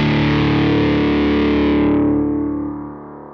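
A Kemper Profiler guitar tone with the expression pedal in heel position rings out as a thick, distorted sustained chord, steady and loud, then its upper edge darkens and it fades gradually over the final second.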